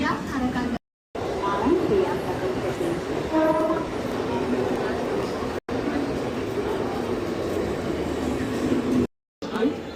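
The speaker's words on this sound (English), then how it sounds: "We're gonna take this train because the other trains were full" Rumbling Mumbai commuter train noise fills the scene with steady rolling clatter, a few tonal horn-like notes, and people talking nearby over the din.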